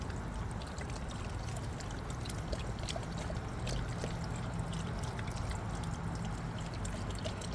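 Water pours steadily for a dog outdoors in a continuous rushing trickle lasting several seconds, close and fairly loud, with no voices over it.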